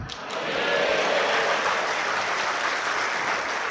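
Crowd at an LPDP forum addressed by the Minister of Religious Affairs claps loudly and continuously, a full room of applause rising quickly and holding steady.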